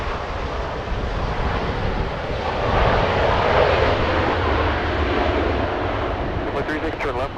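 An Avianca Boeing 787 Dreamliner touches down at LAX, a steady broad jet roar that swells slightly mid-landing and holds, with people talking under it.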